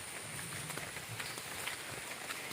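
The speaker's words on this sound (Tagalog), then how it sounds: "Babay muna kasi malakas ng ulan." Heavy rain pours steadily, a dense broadband hiss of drops striking surfaces close by, constant in level with faint scattered splashes and no talk.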